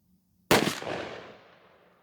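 A Remington 11-87 shotgun fires a single Winchester Longbeard XR 12-gauge 3-inch shell, one sharp loud blast after a moment of quiet, followed by a long rolling echo that fades out.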